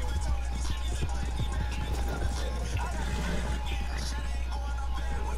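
A horse galloping in Red Dead Redemption 2, with a steady rhythmic clatter of hooves running throughout under game ambience and a voice talking over it.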